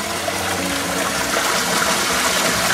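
Water rushes steadily through a long concrete aqueduct beside a rural walking path, a loud, continuous, close-up gushing flow with no pauses.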